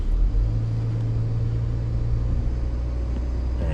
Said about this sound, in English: It's accelerating into the parking space on its own in reverse.